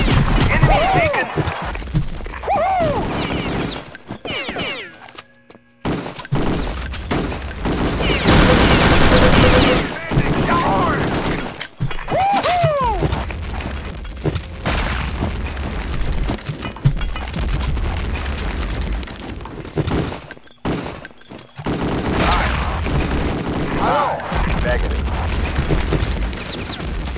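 Rapid gunfire bursts and booming explosions fill a firefight in the video game Return to Castle Wolfenstein, loud and nearly continuous, with brief lulls and voices calling out amid the shooting.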